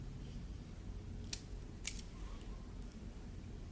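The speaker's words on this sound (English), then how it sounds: "So I'm going to cut my wire down the center." Scissors snipping a thin nose wire down the center for a cup-shaped fabric face mask, two quiet sharp cuts spaced about half a second apart over faint room hiss, no talking.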